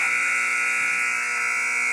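A loud, steady electronic buzzer sounds in a girls' high school basketball game gym, marking the end of the first quarter with a sustained, unbroken tone.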